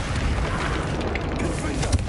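The Confringo blasting spell goes off in Hogwarts Legacy as a dense, loud roaring burst of fiery rumble that fills the short moment without letting up.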